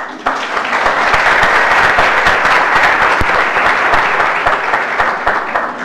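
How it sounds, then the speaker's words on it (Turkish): A lecture audience in a Turkish university hall bursts into sustained applause, dense and loud clapping from many hands that holds steady before tapering off slightly at the end. "Onlar kendilerini bir alkışlasın ya."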